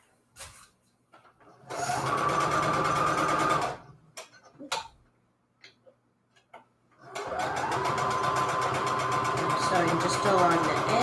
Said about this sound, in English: Sewing just along the edge, not in the middle or anything, on the edge of the fabric.